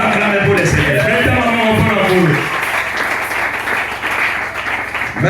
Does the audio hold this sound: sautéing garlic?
no